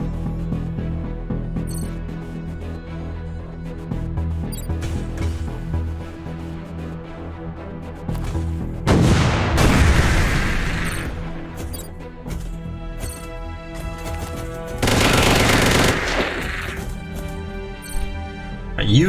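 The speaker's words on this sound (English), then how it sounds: "So I will need to hit him with the cannon, or kill that guy first." Cannon blasts and gunfire in the mech strategy game Mech Armada, with two loud bursts of explosive impact standing out over a continuous bed of game music and effects.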